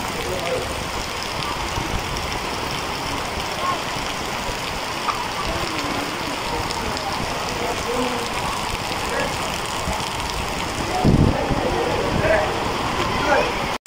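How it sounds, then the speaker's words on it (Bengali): Autumn rain falling steadily in Bangladesh: an even, broad hiss of drops that holds for the whole stretch and swells slightly louder toward the end. "রিমঝিম বৃষ্টির শব্দ শোনা যাচ্ছে"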